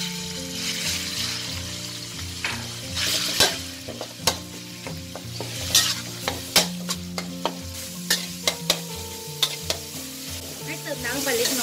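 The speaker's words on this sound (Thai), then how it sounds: "แล้วใส่หมูสับลงไปผัดค่ะ" Minced pork sizzling and frying in a hot pan with a little oil, with a steady hiss and repeated clatters of a utensil stirring and scraping against the pan.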